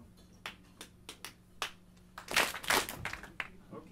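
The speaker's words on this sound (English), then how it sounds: "I'll clap it out and you guys clap out the response." A lecture audience claps out the shave-and-a-haircut rhythm: a few sharp single claps in a pattern, then a louder burst of group clapping answering it, all in a reverberant room.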